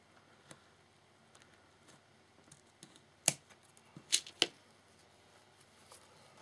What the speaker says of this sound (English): Let me just cut this last pearl off